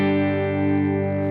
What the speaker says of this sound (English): All right, back to our AC30 Fawn preset.